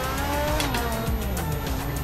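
A Ferrari 458 races in the game Forza Horizon 3, its engine roaring loud and close throughout, with revs rising and falling through gear changes, and no voices over it.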